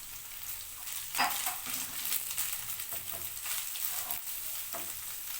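Chicken and cabbage sizzling in a hot pan, a steady frying hiss broken by several sharp stirring scrapes and clatters, close and clear with no talk.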